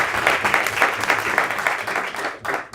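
Audience applause fills a Moth StorySlam at ArtsRiot in Burlington, Vermont: dense, steady clapping from a full house that holds loud and even throughout, then dips briefly near the end.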